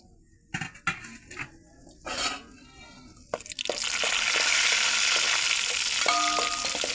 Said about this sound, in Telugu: ద్రాక్ష, జీడిపప్పు, యాలకుల పొడి దీంట్లోనే వేసేసాను.